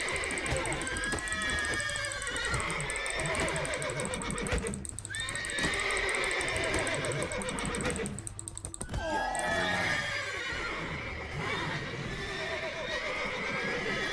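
Spooked horses in The Witcher 3 neigh again and again, loud and close, with hooves clattering beneath and keyboard clicking in the background.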